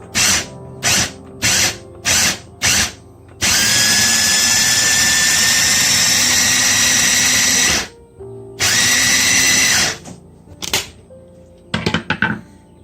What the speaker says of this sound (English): So you want to use the chopper component. And I initially do pulses.